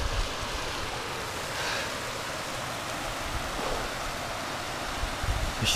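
A small waterfall flows steadily during a bike trek toward Cochno hill, a continuous broad rush of water that stays even and unbroken throughout, with no voices.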